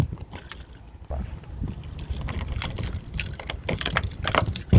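Keys on a ring jingle and clatter as someone fumbles to unlock a storage compartment on an RV, a continuous rattling of metal close by with faint outdoor background noise.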